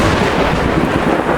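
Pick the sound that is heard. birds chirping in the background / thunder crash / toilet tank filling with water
thunder crash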